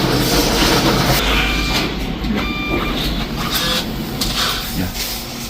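A bottle recycling machine taking in discarded bottles gives a steady, loud mechanical whir and rumble with faint clinks and beeps, continuous throughout, with no talking.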